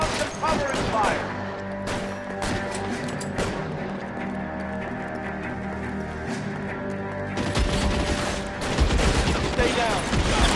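A shootout in L.A. Noire brings bursts of rapid gunfire and sharp impacts over a steady rumbling game background, swelling louder near the end, with no voices in the gaps.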